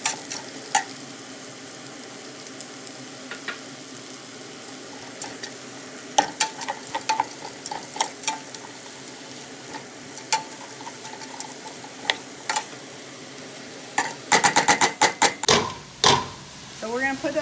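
Chopped crispy bacon and onions sizzle in a pot, a steady frying crackle punctuated by scattered clinks and sharp stirring taps that cluster into a busy flurry near the end.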